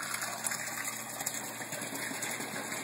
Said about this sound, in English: water pumping in from the sump